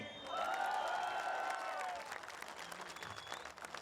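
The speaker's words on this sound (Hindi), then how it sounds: "इन लोगों के लिए ताली।" Audience applause and cheering from a live crowd at a stage show, a dense burst that swells loudly for about two seconds, with bright tonal cries riding over it, then thins into lighter scattered clapping.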